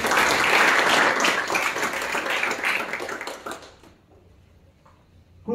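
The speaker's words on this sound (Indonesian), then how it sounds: "Tepuk tangan bagi Yesus Kristus." A congregation at a Sunday worship service at a theology college claps loudly in a dense, sustained burst of applause that thins and drops away after about four seconds, leaving near quiet before a sudden sound at the very end.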